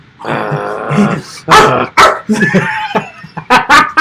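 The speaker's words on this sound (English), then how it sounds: "what kind of dog is that?" A dog growls low and steadily, then breaks into several sharp, loud barks and yips close by, with a rumbling snarl between them.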